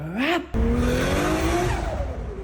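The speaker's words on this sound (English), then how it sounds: "I love the sound of the external gate, especially on an RB" A turbocharged RB25 engine with an external wastegate in a BMW E36 revs hard and close, its pitch climbing, then after a brief break a loud, sustained high roar and whine holds and slowly fades, with no talking.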